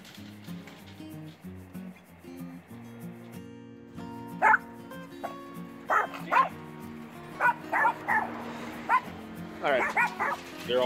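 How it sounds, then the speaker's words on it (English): A dog barks out in a backyard, repeated short yipping barks spaced through the clip over steady background music and nearby talking. "I do have to put my dog in the backyard"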